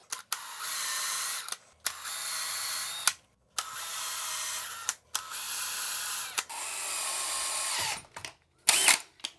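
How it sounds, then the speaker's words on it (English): A power drill pre-drills screw holes through the top of a white plastic toilet flange, running in several sustained whirring bursts of a few seconds each with short pauses between, close and loud. "we can take our drill bit and we can just pre-drill through the top and create a place for our new screws to go"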